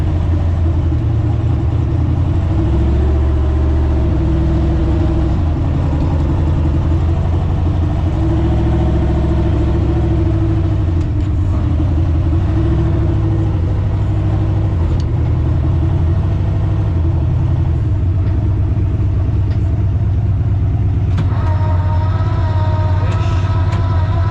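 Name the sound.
turbo Ford Zephyr four-door car engine running and driving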